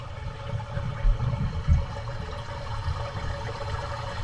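Water rushes through a freshly cleared sewer drain line, a steady, close gurgling flow with a couple of deeper surges early on.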